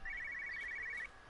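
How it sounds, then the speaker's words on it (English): A telephone rings in Everybody's Gone to the Rapture, near a farmhouse: a rapid trilling electronic bell, faint and somewhat distant, that stops abruptly near the end. "Can hear another phone ringing."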